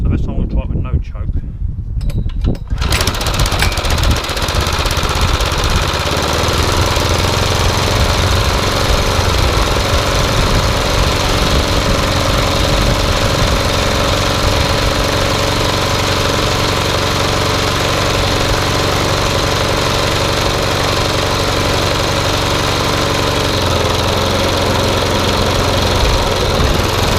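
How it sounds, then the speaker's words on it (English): A Suffolk Punch Qualcast petrol lawn mower engine, slow-compression and freshly restarted after a year in a shed, catches after a few seconds and runs steadily and loudly up close with a rough, throbbing drone. "So it does actually work, but it's a slow compression engine"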